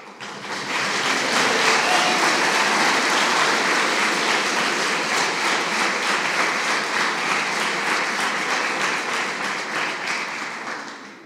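An audience at a national presidential debate tournament claps in sustained, dense applause that rises quickly, stays full and loud for about ten seconds, and then begins to fade.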